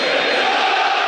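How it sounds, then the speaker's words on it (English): Football supporters from both sides stand and applaud at a Coventry City versus Tottenham Hotspur EFL Cup match, a loud, dense crowd roar and clapping filling the stadium without a break across a short moment. "the supporters from both teams on their feet applauding"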